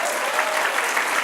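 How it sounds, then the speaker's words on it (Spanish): Church congregation applauding during a Spanish-language sermon, a brief, dense burst of steady clapping filling the room. "Dale un aplauso al Señor."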